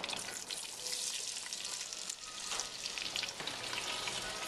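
Onions fry in a pan for sweet potato soup, a steady close sizzle with a bright hiss and small crackles throughout, no voices.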